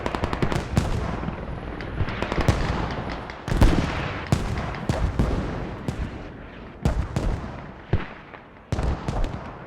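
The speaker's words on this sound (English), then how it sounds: "Mortars coming." Explosions and gunfire in a Squad combat match, with incoming mortar rounds landing in repeated sharp booming impacts among rapid bursts of shots, loud and close, ongoing without a pause and with no voices.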